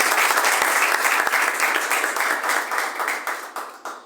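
Loud, dense applause from a church congregation, steady clapping that gradually thins and fades toward the end.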